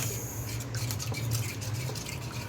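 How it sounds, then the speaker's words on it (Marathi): Curd (yogurt) being whisked in a bowl to break up its lumps, a steady soft scraping and stirring texture that carries on close up throughout, with no talking over it. "मस्त असं फेटून घ्यायचंय सो दही एकदम असं पा एकदम हे करायचे"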